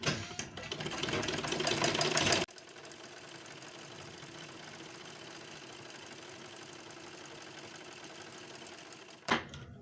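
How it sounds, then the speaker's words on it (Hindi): Electric sewing machine running a thick stitch down the middle of a boat-neck blouse, a fast even mechanical whirr that is loud at first, drops to a quieter steady hum, then briefly rises again near the end. "अब मैं इस पे बीच में से मोटे टाँके से एक सिलाई चला लूँगी इसके ऊपर, बीचों बीच"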